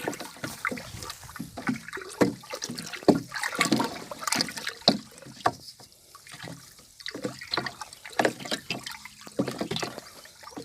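A watering can pours water onto layered rice straw compost outdoors, a continuous splashing and trickling stream with uneven surges, fairly close.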